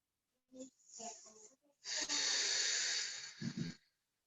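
Slow yoga breathing during a seated twist stretch: a short audible breath, then a long, strong, airy exhale that swells and fades, heard up close with no talking.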